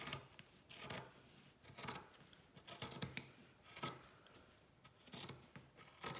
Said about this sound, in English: Straight through with the scissors.